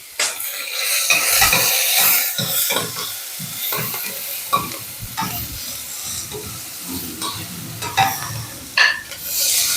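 Salted onions fry and are stirred in a pan, giving a close, crackling sizzle broken by irregular scrapes and knocks of the spoon against the metal, with no one speaking.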